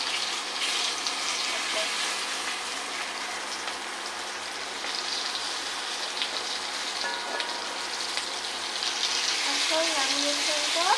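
Eggplant slices fry in a pan with a steady, dense sizzle like light rain that carries on throughout, gently rising toward the end with a few faint clinks.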